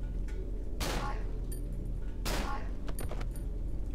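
Two loud, sharp shotgun blasts in the video game Cry of Fear, about a second and a half apart, each with a quick burst of noise, followed by faint clicks and mechanical rattles.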